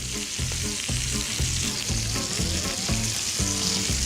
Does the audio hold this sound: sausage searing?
yes